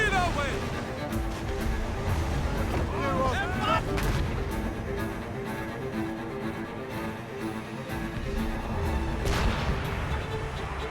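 Ship cannons fire in a naval battle in Assassin's Creed Rogue Remastered, with several heavy booms and crashing impacts over rolling sea and battle noise while voices shout commands.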